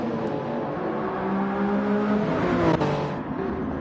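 Race car engine of a BMW in a racing video game, steady droning roar with rising pitch and a brief sharp burst near the end, loud and close throughout.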